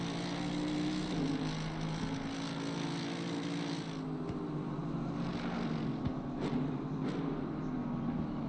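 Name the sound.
race car engine running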